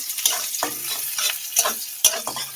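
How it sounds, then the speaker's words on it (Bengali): Onions sizzle and crackle steadily in a hot pan before pointed gourd and potato go in, with a spatula scraping and clicking against the metal several times as they are stirred. "পেঁয়াজটা ভাজা হয়ে গেছে, এবার পটল আর আলুটা দিয়ে ভেজে নেব।"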